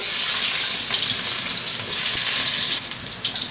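Ginger and garlic hit hot oil and lard in a wok with a loud, bright sizzle and crackle, steady at first and then breaking into uneven spatters as it settles.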